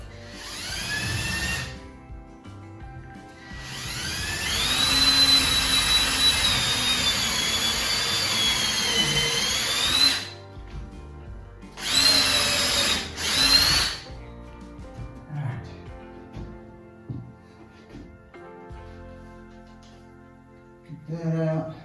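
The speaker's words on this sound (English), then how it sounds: "I'm going to drill a pilot hole for my lag bolt." A power drill bores a pilot hole for a lag bolt into a log cabin wall, whining loudly in a long run and then shorter bursts, with quiet gaps and brief talk between.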